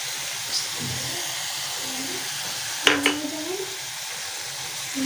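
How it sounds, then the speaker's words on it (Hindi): Onion, tomato, capsicum, cabbage and green onion fry in a pan for a fajita spaghetti, giving a steady soft sizzle with a brief clatter near the middle and a voice faintly underneath. "ये भी साथ ही फ्राई कर लेते हैं"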